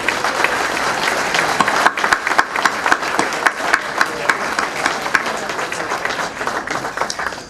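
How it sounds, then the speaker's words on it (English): Audience at a Citizen of the Year event in Darien, Illinois applauds committee members, loud close clapping with sharp individual claps standing out, tapering toward the end. "Could you stand up and just please take a well-deserved round of applause?"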